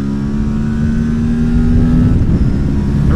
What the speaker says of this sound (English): that engine howl. You can really hear the airbox noise, the air rushing into the engine